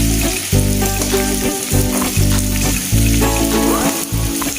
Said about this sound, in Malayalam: ചെറിയ തീയിലേക്ക് 2 സൈഡ് നല്ലപോലെ ഗോൾഡൻ നിറമാകുന്നവരെ ഫ്രൈ ചെയ്തെടുക്കാം